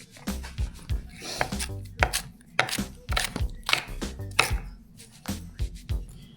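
A knife chops onions steadily on a cutting board, repeated sharp thuds in an uneven rhythm, close and fairly loud.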